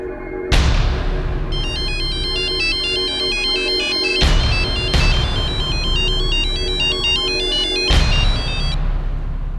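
A mobile phone ringtone plays a loud, bright electronic melody that repeats in phrases for the whole stretch, with sharp bursts marking the start of each repeat. No one speaks over it.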